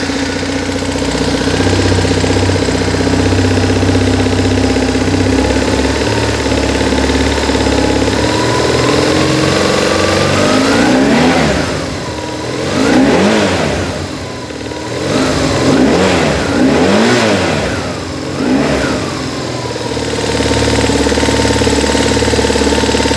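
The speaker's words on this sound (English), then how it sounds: "let's get this one fired up and take a listen to it" BMW R1150R motorcycle engine idling steadily, then revved several times in succession with rising and falling sweeps, loud and close, with no talking.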